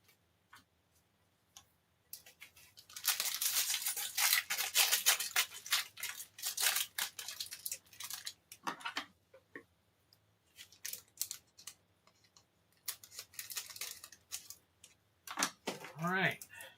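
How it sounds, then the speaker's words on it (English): Scissors snipping open Magic: The Gathering trading card packs, a run of sharp rapid clicks and snips at close range, with quiet pauses between bursts and a brief higher rustle near the end. "Since we're into using the scissors now."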